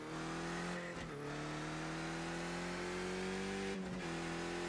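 Race car engine in the iRacing sim, played in VR, holding a loud steady high drone through a lap with two brief dips where it lifts off, likely gear shifts, then picks up again; no talk.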